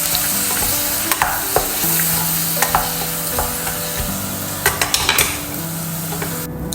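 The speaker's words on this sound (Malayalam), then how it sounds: "അപ്പോൾ ഇതിലേക്ക് ഞാൻ തേങ്ങ ഒഴിച്ച് കൊടുക്കുന്നുണ്ട്." Grated coconut hits a hot pan for a Kerala-style dish and is stirred as it fries, giving a steady sizzle with sharp metallic scrapes and clinks from the spoon against the pan at irregular intervals.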